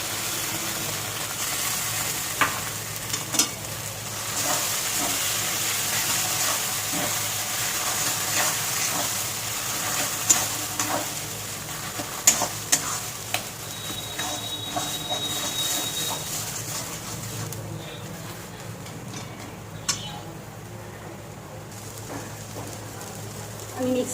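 Mustard-poppy paste, green chilli and prawns fry in a pan for a kochu-leaf prawn dish, giving a steady, loud, hissing sizzle with occasional clicks from stirring throughout.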